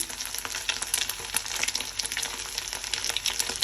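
An egg frying in hot oil in a pan, stirred and scrambled, with a loud, steady close-up sizzle and small scraping stir sounds throughout, no talking.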